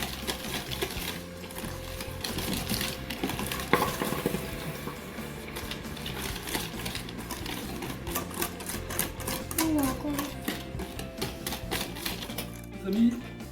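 Sugar, eggs and custard powder are mixed together for a lemon tart, making a continuous fast rattling and clattering of utensil against bowl, with a voice faintly present underneath.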